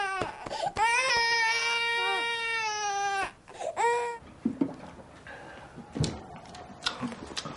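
An infant cries loudly in sustained wails with harmonic sobs, then breaks into shorter whimpers and sniffles that fade under quieter background movement.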